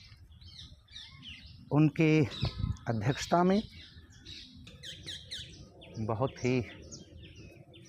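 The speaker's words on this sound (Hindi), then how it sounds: "यहाँ पर पक्षियों की चहचहाहट आप सुन सकते हैं।" Birds chirp and tweet in the background outdoors at a writers' conference venue, with scattered high calls throughout while someone speaks over them.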